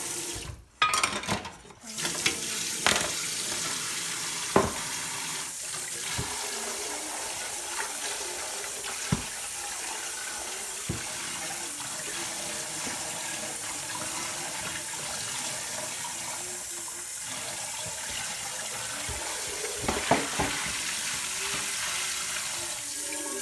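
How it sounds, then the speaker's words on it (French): Running water rinsing out a cauldron after a chemistry reaction, a steady broad splash and gush throughout with occasional knocks and clatters of the vessel. "Et maintenant, on va laver le chaudron."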